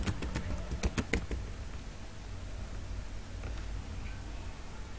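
Keystrokes on a computer keyboard while a Google Form title is entered, a quick burst of close, crisp taps in the first second and a half, then a few scattered presses over a steady low hiss, with no talking.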